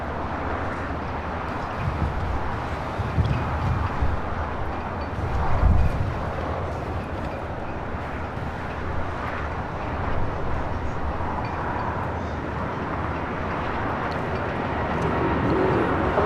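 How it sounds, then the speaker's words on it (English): Latam Airlines jet rolling for takeoff on runway 25 right at LAX, a distant broad roar that swells and fades over the run, heard from afar against steady background noise. "Now rolling on 25 right is Latam Airlines 603 out to Santiago,"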